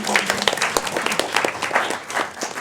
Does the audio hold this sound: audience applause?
yes